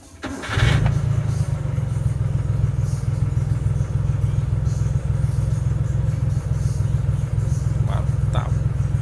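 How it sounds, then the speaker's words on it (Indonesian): A Daihatsu Hijet 1000 engine cranks briefly on the starter, catches, and settles into a steady, loud mid-pitched idle that runs to the end, with a couple of faint clicks late on. "Kita coba starter ya."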